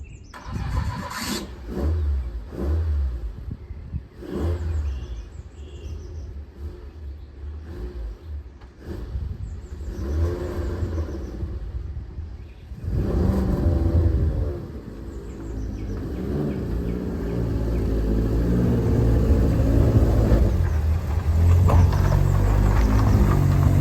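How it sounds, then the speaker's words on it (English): A classic Ford Escort MK1, just out of a five-year restoration, starts up and drives off on the road. The engine revs, then rumbles and builds steadily louder as it pulls away, and there is no talk. "today we're going to get the Escort out on the road and take it for a little test drive"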